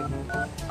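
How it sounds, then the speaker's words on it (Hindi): Telephone keypad tones, three brief electronic beeps of different pitch pressed in quick sequence, loud and close with nothing else heard. "फोन लगाओ।"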